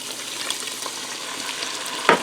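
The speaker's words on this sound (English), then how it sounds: "I'm going to add in a cup of beef broth." Beef broth poured into browned ground beef and bacon in a Ninja Foodi: a steady, close sizzle and bubbling hiss throughout, with a short louder splash near the end.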